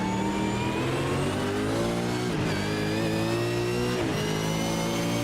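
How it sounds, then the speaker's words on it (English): V8 Supercar engine in a racing video game going through the gears, a loud steady howl with two sharp drops in pitch at each upshift before climbing again, close and continuous, no talking. "Listen to that sound of the V8 going through the gears."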